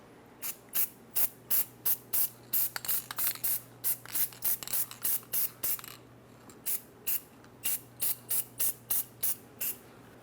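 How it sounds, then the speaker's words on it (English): Anti-seize sprays in quick repeated bursts onto the front wheel hub of a 2003-2009 Dodge Ram 2500 truck, short close hisses in a steady rhythm with a brief pause midway. "Let's coat the hub in a thin layer of anti-seize to prevent this from rusting in the future"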